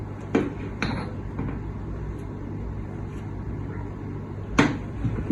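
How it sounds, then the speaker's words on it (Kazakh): Dried apricots being mashed in a bowl produce a few close, sharp knocks at irregular intervals with soft scraping between them, over a steady low hum. "Сары өрікті алып, оны да езіп аламыз"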